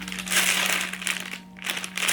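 A plastic packet of art supplies, pencil leads and pencils, crinkles and crackles loudly as it is handled up close, in steady rustling bursts with a brief pause midway.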